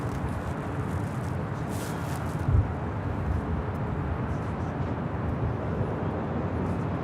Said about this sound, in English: Landing up there on the north side of 24 right, that was Delta Airlines flight 377 coming from Atlanta